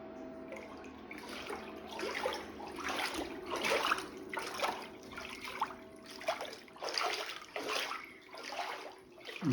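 Floodwater flowing steadily nearby, a continuous rushing, gurgling wash with rhythmic surges throughout.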